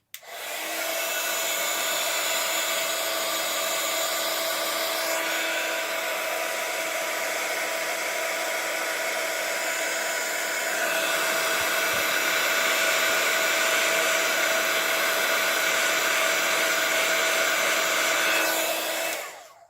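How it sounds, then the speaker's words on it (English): Heat tool blowing continuously at close range while heat setting embossing powder on a card, a steady loud whooshing hum that runs unbroken from start to finish. "I'm heat setting this now."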